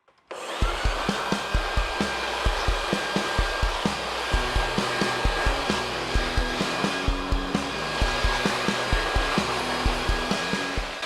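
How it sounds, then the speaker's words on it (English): A blower roars steadily and loudly as it clears sawdust off a fan in a woodworking shop, its constant whoosh broken by a regular rhythmic thumping throughout. "I'm going to blow all the sawdust off of it because it's pretty dusty"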